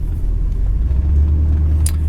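A yellow 1967 Cadillac convertible with 60,000 original miles idles nearby in a steady, deep low rumble, with no one speaking over it.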